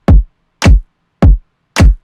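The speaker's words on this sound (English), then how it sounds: "The kick and the claps together sound like this." Four loud, evenly spaced hits of a punchy kick layered with a bright clap, each with a deep booming low end that decays quickly into silence, playing alone in an Ableton beat.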